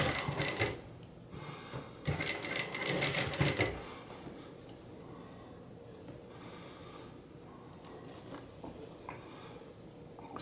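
A sewing machine stitches a dress shirt sleeve, running in fast rattling bursts for the first few seconds, then quieter mechanical ticking and handling of fabric nearby.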